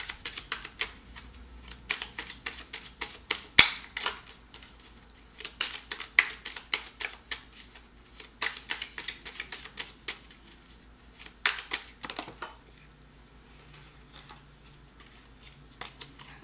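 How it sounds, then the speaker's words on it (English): Tarot cards are shuffled in several quick riffling bursts, crisp flutters separated by short pauses, close and fairly quiet. "We got 4 cards, so I'm just going to shuffle again"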